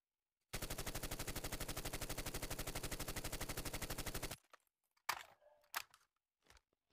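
A rapid, even burst of automatic gunfire in Call of Duty Mobile lasting about four seconds, followed by a few sharp clicks and thuds after it stops.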